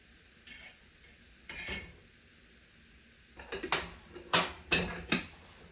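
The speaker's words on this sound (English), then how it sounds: "I'll give my tea a stir to get the flavour to go through it" A spoon stirs loose leaf tea in a teapot with a few soft scrapes, then a run of sharp, bright clinks against the pot, all close by and alone.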